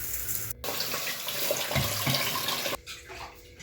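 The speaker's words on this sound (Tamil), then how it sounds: "ஒரு 3 தடவை தண்ணி ஊற்றி நல்லா கழுவிக்கலாங்க." Water poured over soaking Salem gundu rice to wash it for rice murukku, a steady splashing, running rush that fills most of the moment, stops abruptly, then gives way to quieter trickling.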